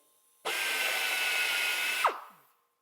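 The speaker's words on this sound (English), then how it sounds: "while we drill the other hole" A power drill drilling a hole while installing engine cowls whirs loudly and steadily for about a second and a half, then winds down as it stops, close by.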